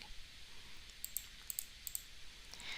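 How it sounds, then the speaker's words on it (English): Numbers are typed on a computer keyboard in a few quick, faint key clicks, spaced in small bursts over a quiet background with no talking. "I'm going to type in 100."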